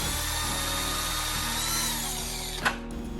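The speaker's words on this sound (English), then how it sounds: "So I used a smaller drill bit to go ahead and go into the helmet," A small drill bit bores into a GoPro-fitted helmet, a steady close-up whine of the power drill running continuously for about two and a half seconds before cutting off with a brief clack.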